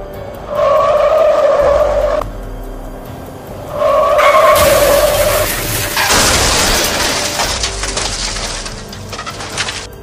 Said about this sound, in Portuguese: Eu vou acelerar esse carro até o último.